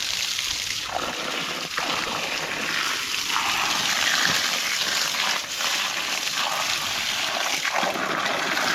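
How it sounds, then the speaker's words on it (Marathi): Water poured onto trees in a cashew orchard, a continuous close splashing and trickling rush that holds steady with a few brief dips. "मोर्या मस्त एन्जॉय करतोय झाडांना पाणी वगैरे घालतोय."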